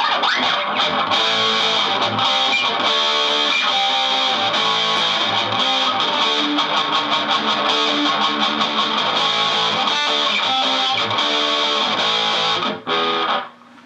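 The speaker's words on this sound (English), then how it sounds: "let's kick some distortion through these cables" Heavily distorted electric guitar through a distortion pedal playing a dense, sustained riff, loud and continuous throughout, cutting off abruptly near the end.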